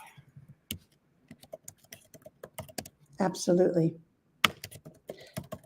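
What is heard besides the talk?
typing a message on a computer keyboard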